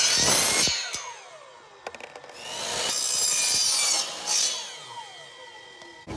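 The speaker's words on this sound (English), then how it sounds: "I would suggest a hacksaw for this, because this is a little bit dangerous" A hacksaw cuts through PVC pipe in uneven rasping strokes, bright and close, with short pauses and a few knocks between the longer pulls.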